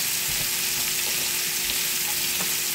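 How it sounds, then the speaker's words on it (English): Salmon sears face down in a hot cast iron skillet with a loud, dense, continuous hiss. A couple of soft knocks sound underneath it, and no one speaks. "Now I'm going to cook these face down for just a couple of moments."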